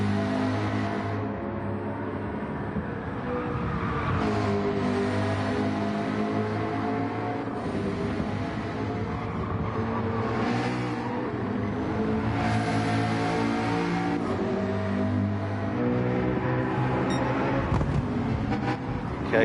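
A Lamborghini Murcielago races in a video game, its engine droning steadily with continuous harmonic revving that rises and falls alongside other race cars, loud and sustained throughout.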